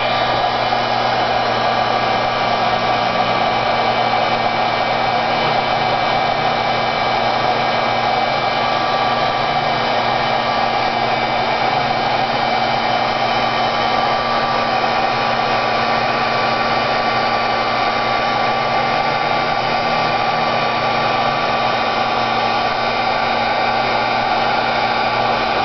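A heat embossing tool blows hot air in a loud, steady, unbroken whir like a hair dryer, running continuously and close without any talk.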